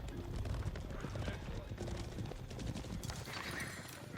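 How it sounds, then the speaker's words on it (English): Horses in a video game gallop with a busy, continuous clip-clop of hooves and repeated neighs and whinnies, fairly close and steady throughout the short stretch, with a voice talking over them. "Looks like horse archers have snuck out here."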